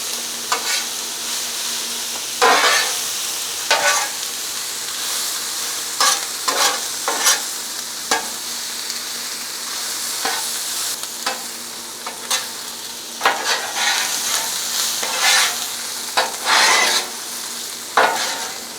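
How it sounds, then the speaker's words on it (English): Bacon sizzles among vegetables in a frying pan for shrimp and grits, a steady hiss broken by repeated scraping strokes of a utensil stirring through the food, close and fairly loud with no voices. "we'll throw the bacon right back over in the middle of these vegetables"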